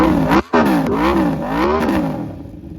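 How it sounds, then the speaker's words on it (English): An Aprilia motorcycle fitted with a titanium exhaust revs hard and close by, rising and falling through several quick throttle blips with a brief cut, loud and on its own. "It sounds like an expensive Italian motorcycle"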